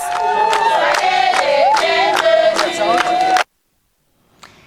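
A crowd in Sang Malima, Cameroon, claps in a steady beat while singing songs of unity and peace, voices loud and close, then cuts off abruptly into near silence with a faint sound at the end.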